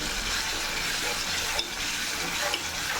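Chicken Chettinad gravy base with a ginger, garlic and pepper mix frying in oil, giving a steady close sizzle with faint stirring scrapes throughout.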